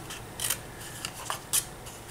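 Scissors snipping paper up to score lines while making a cauldron-shaped Halloween box, heard as a few quiet, separate cuts spread across a soft background with no talk.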